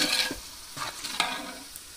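About 1.5 kg of tomatoes sautéing in oil for mutton biryani: a brief burst of soft hissing sizzle broken by a few quick stirring scrapes, close and unaccompanied by speech.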